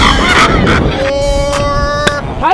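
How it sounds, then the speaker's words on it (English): Ducks give several loud, nasal honks close by, the calls coming in short bursts over light wind noise. "Look at them damn pretty ass ducks."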